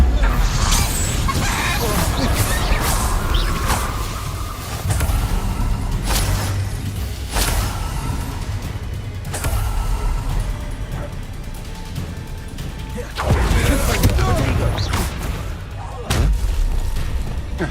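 Spells and explosions from the video game Hogwarts Legacy come in a continuous loud barrage of booms, blasts and whooshes, one burst after another, with a player calling out spell names throughout.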